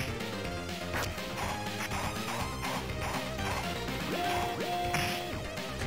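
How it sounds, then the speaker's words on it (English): Insert-coin effect from the TMNT Cowabunga Collection arcade game, a short bright crash-like jingle with rising tones played amid busy game music and sound effects. "This is the insert coin sound."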